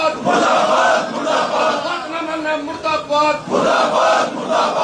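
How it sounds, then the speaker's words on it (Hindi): Electricity board employees at a sit-in protest in Sector 12, Karnal, on its third day, chanting slogans against the government: a loud crowd chant rising in repeated rhythmic bursts with short pauses between lines. "आप देख पा रहे हैं सरकार के खिलाफ नारे लगाते हुए नजर आ रहे हैं"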